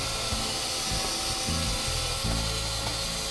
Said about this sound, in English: Danny's going to clean the threads on the house side of the house trap